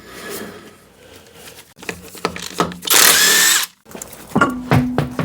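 An air impact gun zips loose the wheel nuts on a Proton Wira car during a boot rack job, a few short bursts and one long loud whine, with clanks and rattles of parts between them.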